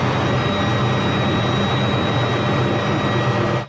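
Loud, steady helicopter drone with a heavy low rumble and broad rotor and engine wash, holding constant close by before cutting off abruptly at the end.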